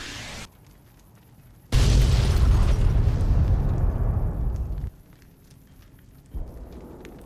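A heavy Titan mech slams down in a landing impact explosion in a modded Fallout: New Vegas game, a loud rumbling boom that erupts suddenly, holds for a few seconds, then decays into quieter ambience with a smaller thump near the end.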